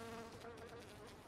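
A fly buzzes in PlayerUnknown's Battlegrounds, a faint, steady, droning hum that lasts about a second and has no speech over it.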